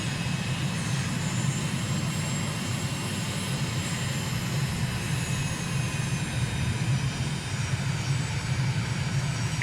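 Steady, thundering roar of jet aircraft engines in Microsoft Flight Simulator, cruising along the coast over Freetown, Sierra Leone; a dense, unbroken drone with strong low rumble that holds at an even loudness throughout, with no voices.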